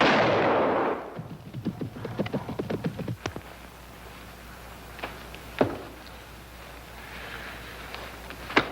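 A hunting rifle fires in a 1952 film scene set on safari: one loud, sharp blast at the start, followed by scattered light knocks and a later isolated crack over a quiet outdoor background.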